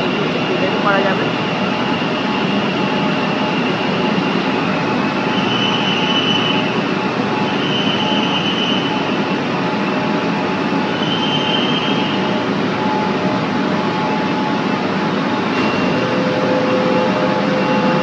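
A metro train runs with a loud, continuous rumble and rail roar, with faint wheel squeals rising and falling over it, while a person talks in the background.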